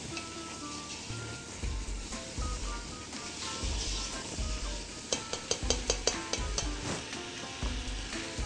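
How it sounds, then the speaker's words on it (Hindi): Spinach being stirred through cream in a sizzling pan while cooking Mediterranean pasta, a steady close frying hiss with scraping stirring strokes and a quick run of sharp clicks near the end. "इसको आप मिक्स करते जाएं जब तक पालक ड्राई होना शुरू हो जाए फिर से"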